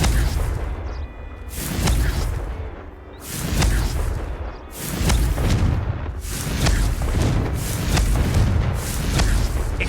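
Confringo explosive spells cast in the video game Hogwarts Legacy, several heavy booms landing roughly every second or two, each a loud blast with a whooshing tail, repeating steadily and close.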